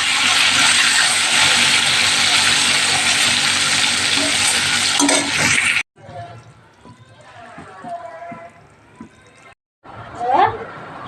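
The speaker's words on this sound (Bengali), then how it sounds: "মাছটা এখানে ভেজে নিচ্ছি" Fish frying in a pan sizzles loudly and steadily for about six seconds, then cuts to quieter kitchen sounds with someone talking.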